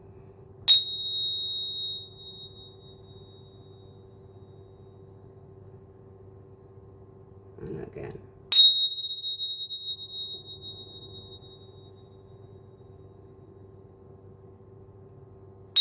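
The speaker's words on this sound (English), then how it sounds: "So just feel free to listen to the chimes" Chimes ring out to clear the air in a quiet room: two separate bright metallic strikes, each with a long ringing decay, spaced several seconds apart, with a soft low hum underneath and a brief rustle between them.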